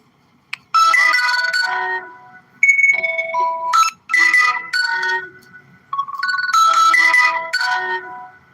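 A mobile phone rings loudly and close by, playing a repeating melodic ringtone in bursts with short gaps between them.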